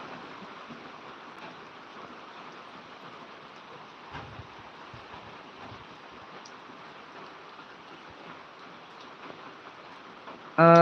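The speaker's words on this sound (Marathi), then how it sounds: "हा पाऊस सोलापुरात चालू आहे" Heavy monsoon rain pours steadily over a field in Solapur, a dense, even hiss that holds throughout, with a sharper burst at the very end.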